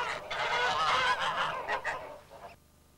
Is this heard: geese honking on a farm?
yes